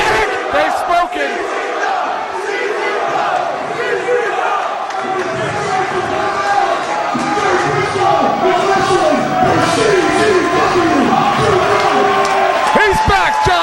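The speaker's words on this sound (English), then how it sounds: "Listen to this crowd" A packed wrestling arena crowd roars and chants continuously, loud and dense throughout, with commentators' voices running over the top.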